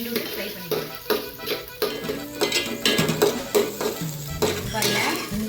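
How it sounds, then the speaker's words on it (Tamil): Egg being stirred and fried in a kadai, with a sizzle under repeated scraping and clinking strokes of a utensil against the pan. "இதை நம்ம எக்கு ஃப்ரை பண்ணுவோம்ல அந்த மாதிரி லைட்டாக கிண்டி விட்டு ஃப்ரை பண்ணிக்கலாம்"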